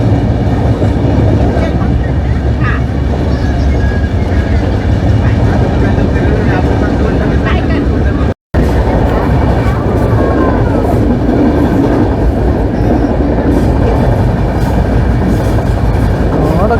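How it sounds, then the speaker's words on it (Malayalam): MAS-LTT SF Express train descending the Lonavala ghats, heard from inside as a loud, continuous rumble and rattle of the carriages with a momentary dropout midway. "കടിച്ചു പിടിച്ചാണ് ഈ ട്രെയിൻ പോകുന്നത്."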